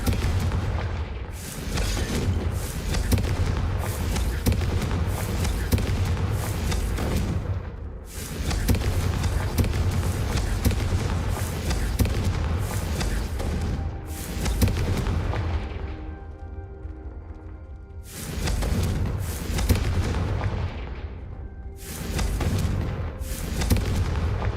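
Fire-blast spell explosions from the Hogwarts Legacy video game, loud booming bursts in long sustained waves with brief gaps between volleys, dense and rumbling throughout.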